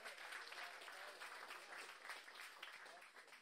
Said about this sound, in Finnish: annetaan aplodit kolmannelle muurausryhmälle